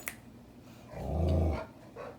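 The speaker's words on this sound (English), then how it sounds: "she's growling at our kitten because she wants to play" A dog growls at a kitten in a low, rumbling burst that swells and fades in a couple of seconds, close by in a quiet room.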